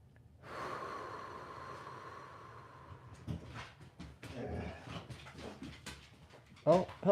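Several dogs sniff, snort and whimper close by, with short breathy bursts and whines coming in uneven clusters, with people talking at times.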